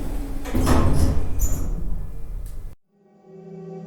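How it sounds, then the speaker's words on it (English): A lift door slides open in an old Dublin building, a loud rumbling slide with squeaks lasting a few seconds before cutting off, followed by a quiet tonal hum. "the lift stopped and the far door opened"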